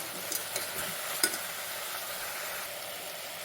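A spoon stirs garlic cloves and cumin seeds in a pan over steady low sizzling, with a few light scrapes and clicks of the utensil against the metal.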